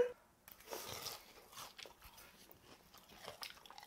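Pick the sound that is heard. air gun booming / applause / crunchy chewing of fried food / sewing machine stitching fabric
crunchy chewing of fried food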